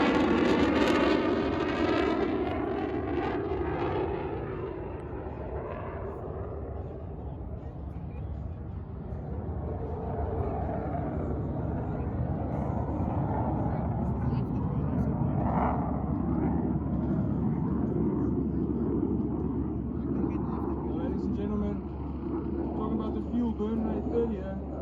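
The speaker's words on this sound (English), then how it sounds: "to your right hand side now, at 140 knots, gear extended, flaps down" An airplane makes a low pass at an airshow at 140 knots with gear extended and flaps down. A steady, loud engine roar rises and then fades, with a voice talking over it throughout.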